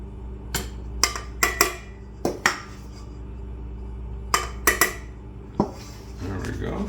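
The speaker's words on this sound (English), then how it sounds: "Put the hook in there and start mixing it." A stand mixer with a dough hook kneads bread dough for Pullman-style loaf bread, giving a steady low motor hum. Sharp metallic clanks and knocks hit the bowl at irregular intervals, close and fairly loud, with no speech.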